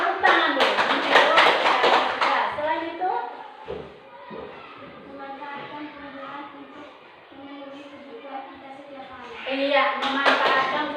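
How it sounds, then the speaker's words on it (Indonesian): Children in a classroom clap together in a brief burst at the start, then a voice speaks over quieter room noise, and another round of clapping follows near the end. "Tepuk tangan dulu."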